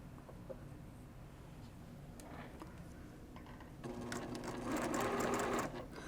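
A sewing machine runs steadily while stitching small quilt block pieces around a pinwheel center, its motor a continuous hum that gets louder and busier toward the end, with no talking.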